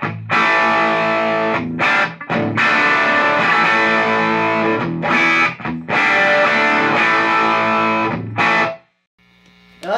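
An electric guitar plays through a Fender Deluxe Reverb amp on its normal channel with all tone controls turned up, loud and bright with sustained ringing chords separated by brief gaps, ending in a short pause.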